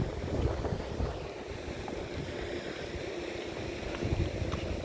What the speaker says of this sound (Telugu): ఇది సముద్రం సముద్రం మధ్యలో ఉన్నాం మనం